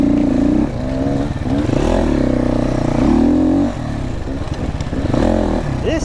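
A GPX motorcycle engine running close by, idling roughly and then revving up in several loud surges that fall back to idle, with some faint talk underneath.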